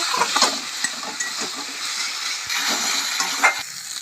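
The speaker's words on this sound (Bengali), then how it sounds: "এখন আলু দিয়ে ভালো করে কষিয়ে নেব" Potatoes stir-fried with sautéed onion and a ginger, cumin and green chilli paste in a pan; a continuous close sizzle with soft scraping stir sounds rises and falls over a few seconds.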